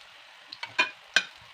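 An eggplant, egg and corned beef wrapper fries in a pan, giving a quiet sizzle with a few brief crackling pops and spatters, close and isolated.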